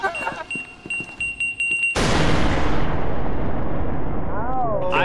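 A grenade explodes in SCP: Secret Laboratory with a sudden, loud blast that rumbles and slowly fades over several seconds, after scattered gunfire and game sounds, with a voice heard near the start.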